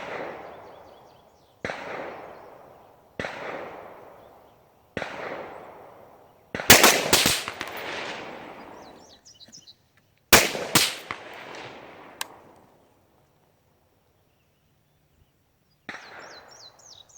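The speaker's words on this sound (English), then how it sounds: "So let's go ahead and pop off 3 rounds and see how we turn out." Rifle firing Hornady 75gr .223 rounds loaded with Varget, several sharp loud shots spaced a second or two apart, each trailing a long echoing decay outdoors, with a few clustered clicks and bangs in the middle.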